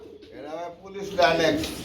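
Low, throaty cooing from pigeons, close by, with a voice talking over it.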